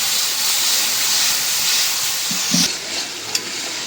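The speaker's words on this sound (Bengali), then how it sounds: "মশলাটা খুব ভালো করে কষাই নিলাম, একদম পেঁয়াজ গলে গেছে।" Spice paste with ground coriander and softened onion sizzling in a pan for a spicy chicken curry, a steady hiss with a couple of soft stirring scrapes near the end.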